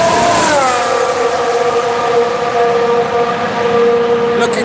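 Formula 1 car engine running at preseason testing, a loud, close, high-pitched whine with steady harmonic tones that dip slightly in pitch early on and then hold steady, with track ambience beneath.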